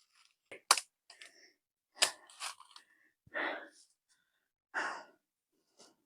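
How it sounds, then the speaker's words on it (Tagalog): Heavy panting from someone out of breath after hiking toward a treasure-hunting site, several loud, ragged breaths and gasps spaced unevenly, close to the microphone with quiet gaps between them. "Hinihingal ako mga kasikers."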